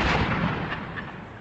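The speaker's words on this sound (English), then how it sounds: "There's machine gun fire from time to time." Gunfire and explosions in Diyarbakır's Sur district under curfew in southeastern Turkey, a loud continuous blast of heavy, rumbling fire that fades slightly over about a second and a half, with no voices.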